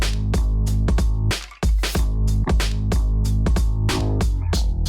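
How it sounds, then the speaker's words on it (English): Drums and a live bass layer of a hip-hop beat play together, with punchy hits and a steady low bassline in a loud, even groove, broken by one brief dropout. "So the bass layer and the drums, when they're played together, sound like this"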